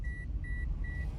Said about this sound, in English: I'm sorry for the beeping noise.